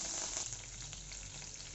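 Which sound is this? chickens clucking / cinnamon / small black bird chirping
cinnamon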